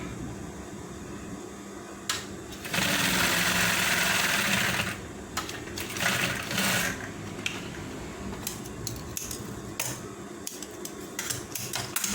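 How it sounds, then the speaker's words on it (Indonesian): A sewing machine stitches a trouser zipper, running in a steady mechanical whir with a louder sustained burst near the start and shorter runs after, close up with no talking. "Nah, jahit sampai ke bawah."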